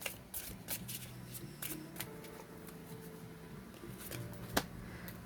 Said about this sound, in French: Allez, on va tirer 3 cartes.